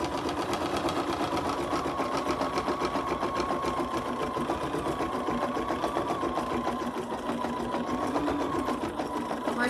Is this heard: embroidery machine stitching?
yes